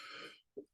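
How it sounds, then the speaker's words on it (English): A single short cough follows a faint throat-clearing rasp, close and quiet, in an otherwise silent moment during a one-take market analysis recording. "And I have to cough."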